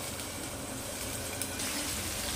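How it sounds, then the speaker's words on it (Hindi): Cauliflower florets frying in hot oil in a pan over low to medium flame, giving a steady, even crackling sizzle that runs unbroken at moderate volume with nobody talking. "इसे लो टू मीडियम फ्लेम से फ्राई करना है"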